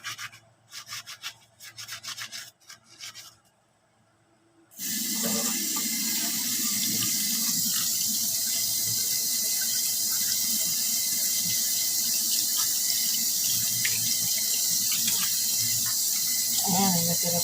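A stove burner is scrubbed and rinsed under running tap water, with a few brief rubbing and clattering sounds giving way to a loud, steady stream from the faucet splashing over the metal in a sink.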